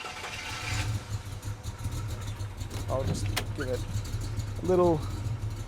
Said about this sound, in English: we'll start her up